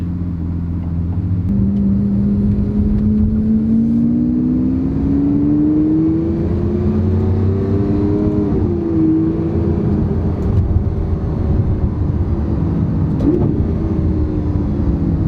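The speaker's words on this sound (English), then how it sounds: "the sound of that exhaust is something else" A Lamborghini Aventador's exhaust drones loudly and continuously, its pitch climbing smoothly as the engine revs up, then dipping briefly before rising again.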